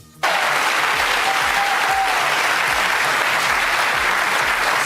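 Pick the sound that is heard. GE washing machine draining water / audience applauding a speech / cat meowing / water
audience applauding a speech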